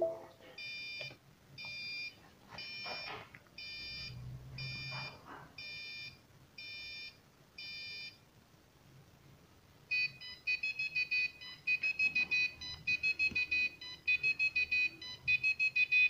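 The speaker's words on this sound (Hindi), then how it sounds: "ये मैंने खुद एक्सपेरिमेंट करके एक टोन सी जनरेट की है" A small Arduino-driven buzzer beeps in short regular bursts, then shifts to a faster, more complex electronic tone pattern; fairly quiet, with some faint background noise.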